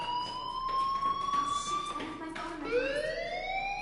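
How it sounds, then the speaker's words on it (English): A fire alarm sounds in the video game Life is Strange as steady electronic tones, several high pitches holding and then sliding upward, with a voice speaking faintly underneath. "do you hear that fire alarm?"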